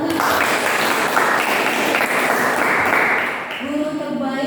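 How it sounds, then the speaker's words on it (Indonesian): Applause from a small group in a school group counseling session, steady clapping for about three seconds, then easing as a voice starts speaking over the tail. "Ya, berikan tepuk tangan."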